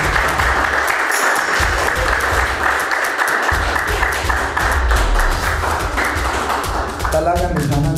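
Loud, dense applause from a large crowd at a school sports event in Hasan Abdal, steady clapping throughout with a voice speaking over it briefly near the end.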